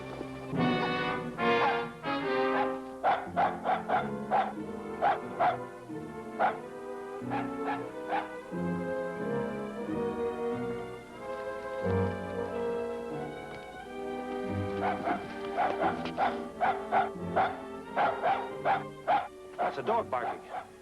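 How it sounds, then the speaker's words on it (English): A dog barks repeatedly somewhere on a mysterious island, short yaps scattered through a dense musical score and sound effects of a dramatized adventure scene. "That's a dog barking."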